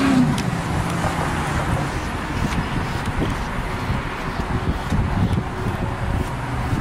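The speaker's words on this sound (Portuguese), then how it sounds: "Olha esse vento, menino." Strong wind roars steadily against the microphone, a dense, rumbling gust noise that stays loud throughout with no talking.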